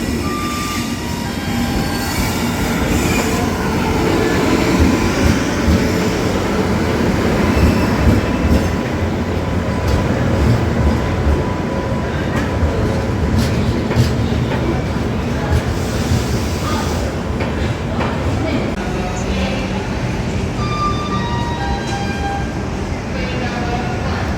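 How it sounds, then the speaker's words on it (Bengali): The Howrah express pulls into Bangalore railway station with loud rolling wheels, clattering carriages and squealing brakes, a continuous close rumble throughout with faint voices around. "এদিকে এবার আমাদের হাওড়া বিডি এক্সপ্রেস চলে এসছে"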